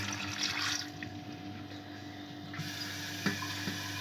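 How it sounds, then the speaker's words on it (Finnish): Tap water runs and pours into a cooking pot on a stovetop while making a soup, a steady splashing hiss up close that quiets after a couple of seconds, followed by a couple of light knocks. "Ja kaadetaan kattilaan myös vettä."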